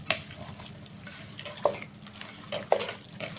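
Mutton kima biryani mixture being stirred in a pot, soft scraping and clinking strokes with a few sharper spoon knocks against the metal over a low background hum.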